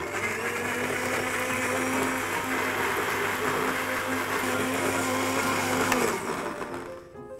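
An electric blender whirs steadily as it purees spice paste for soy sauce eggs, running loud and continuous for about six seconds before winding down and stopping.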